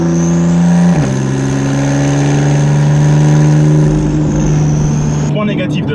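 A Porsche 911 GTS phase 2 flat-six pulls hard, a loud, close engine note climbing steadily after a brief shift, then easing off near the end with no talk over it.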